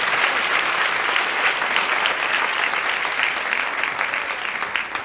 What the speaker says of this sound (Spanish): Dale ese aplauso al Señor en esta preciosa noche